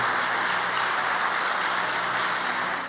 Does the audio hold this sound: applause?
yes